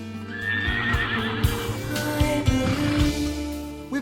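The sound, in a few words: Gypsy Vanner horse neighing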